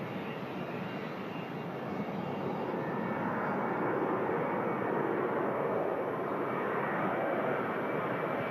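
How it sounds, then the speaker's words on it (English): A Ryanair jet airliner departs Manchester Airport in poor visibility, producing a steady, distant broadband engine roar that slowly swells louder over several seconds, with no voices. "Ryanair heading out to Paris Beauvais."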